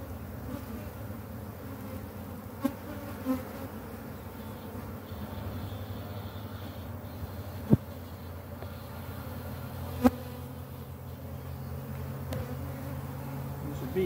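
Honey bees in an opened hive being split hum in a steady, dense buzz that fills the scene, with a few sharp clicks and knocks standing out above the drone.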